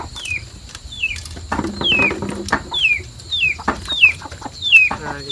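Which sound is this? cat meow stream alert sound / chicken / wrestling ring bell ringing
chicken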